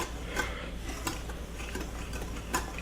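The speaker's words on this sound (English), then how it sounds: "let me whisk this together so that it all gets sort of blended around" Ingredients for a baked dish are whisked together in a bowl, giving a faint, steady scraping stir with a few sharper clinks of the whisk against the sides.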